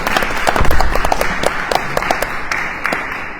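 Audience at a panel discussion on poetry and technological singularity claps in a short burst, with distinct individual hand claps standing out over the dense patter before it eases slightly toward the end.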